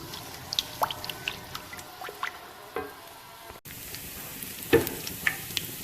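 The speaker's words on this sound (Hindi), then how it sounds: "लहसुन अदरक के पेस्ट को हम थोड़ा सा लाइट ब्राउन कर लेंगे।" Garlic ginger paste fries in oil in a karahi with a soft, steady sizzle. Scattered crackles and pops come through, and a brief stirring scrape is heard near the end.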